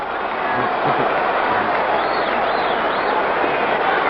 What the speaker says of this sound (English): And the crowd muttering.